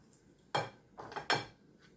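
A spoon knocks and scrapes through banana bread batter in a bowl: three or four quick, close clinking strokes against the bowl's side, separated by short pauses.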